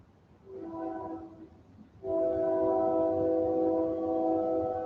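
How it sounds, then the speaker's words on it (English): Passing trains with a sustained multi-tone horn blowing near the tracks, a first shorter blast then a louder, longer one holding to the end over low rumbling rail noise. "I'm sorry if y'all can hear a bunch of train sounds."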